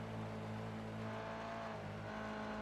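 A race car engine in the iRacing sim at Spa in the rain, a steady droning, close-miked engine tone holding a sustained note with slight pitch shifts, alone without talk.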